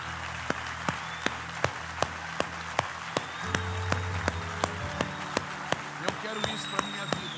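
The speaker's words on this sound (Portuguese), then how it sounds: "Aplaude ao Senhor bem forte por essa palavra." A church congregation claps in praise in a steady, sharp rhythm, distinct slaps roughly every third of a second over a sustained hum of voices and instruments in the room.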